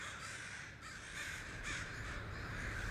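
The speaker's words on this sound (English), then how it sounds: "The crows are here." Several crows caw over and over at an outdoor gathering, the calls loud and overlapping, carried over constant wind and crowd noise.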